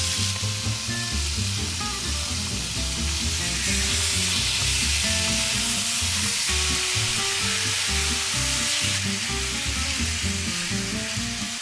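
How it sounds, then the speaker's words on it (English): Pork chops sizzle loudly and steadily in a hot pan, a constant crackling hiss with occasional pops and no voices. "I love the aroma of well-seasoned pork frying up."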